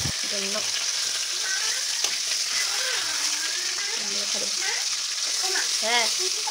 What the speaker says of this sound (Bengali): মাছি মাথা ভাজা করছি